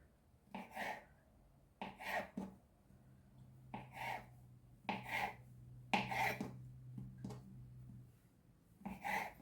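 A knife chops through soft dumpling dough rolled into logs on a board in repeated short strokes, steady and close, with brief pauses between cuts.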